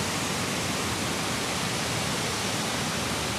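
Steady, full roar of river water rushing over basalt at Spokane Falls, Spokane, Washington, filling the whole clip, constant and close with no breaks or voices.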